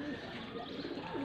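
Pigeons coo softly in a home loft in Faisalabad, low murmuring calls over a steady background hum.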